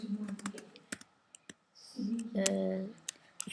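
Keyboard typing during a Minecraft session, a few quick clicks and taps scattered through the clip, fairly faint, with a person talking over part of it.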